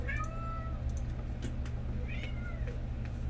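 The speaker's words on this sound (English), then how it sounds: "Cat's freaking out." A cat meows repeatedly in agitation, several drawn-out, rising cries close by over a constant low humming background.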